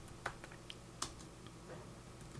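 Typing on a computer keyboard while entering a Modbus scanner module, a few faint, close key clicks spaced unevenly over a soft background hum, with no talking.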